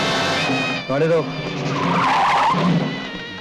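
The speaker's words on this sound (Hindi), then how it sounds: "गाड़ी रोक।" A car in a 1980 Hindi film scene brakes hard to a stop, tires skidding and squealing loudly for a couple of seconds over a steady engine drone, with a voice briefly heard.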